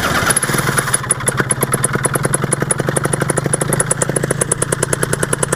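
A model airplane's small glow engine catches and runs at a high idle, giving a fast, steady buzzing rattle that stays loud and close the whole time with no talking.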